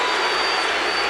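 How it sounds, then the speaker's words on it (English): A basketball arena crowd at a Chicago Bulls versus Utah Jazz game in 1992 hollers a long, loud, sustained "Blue" for Blue Edwards, a dense roar that fills the space with no break. "They're not booing. They're hollering blue."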